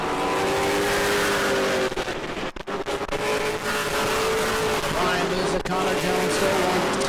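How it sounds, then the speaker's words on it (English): Pro late model race cars roar around the New Smyrna speedway in a Hoosier Series race, a loud continuous engine drone with shifting pitch as cars pass, a brief dip midway, and a commentator talking over it. "Cars strung out all over the speedway, slow cars catching fast cars."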